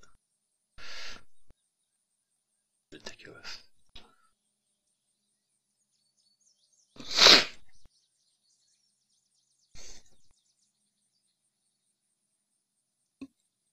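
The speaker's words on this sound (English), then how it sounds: "I had to sneeze." A single loud, sharp sneeze bursts out in the middle of a mostly quiet stretch, with a few brief, fainter noises scattered before and after it.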